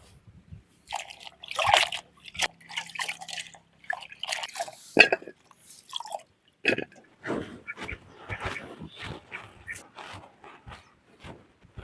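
Okra pods being rinsed and rubbed in a bowl of water, giving close, irregular splashes, drips and trickles in uneven bursts with brief pauses, and no voices.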